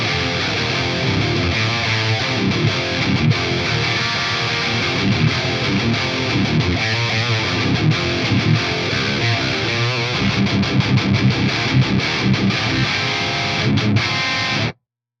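A heavily distorted electric guitar runs through an Axe FX III Recto 1 Red rectifier amp preset, playing dense chugging riffs and sustained chords, loud and close, with no talk, then cutting off abruptly.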